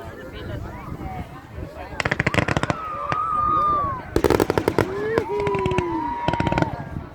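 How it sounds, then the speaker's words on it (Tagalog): Canada Day fireworks crackle and boom in three dense bursts of rapid popping, loud and fairly near, with whistling rockets rising between them and people talking underneath. "Nandun yung fireworks."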